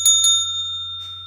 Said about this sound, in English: one of those little bells at the hotel when you need service